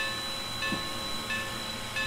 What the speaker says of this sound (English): This is a steam-powered bell